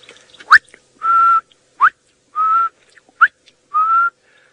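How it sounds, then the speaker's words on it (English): A greater honeyguard repeats its two-part territorial call three times, a sharp rising note followed by a sustained whistled tone, clear against a quiet background at sunrise on safari. "you can hear the greater honey guard in the background"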